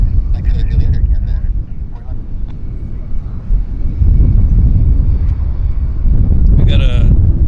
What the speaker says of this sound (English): Airliners taxiing fast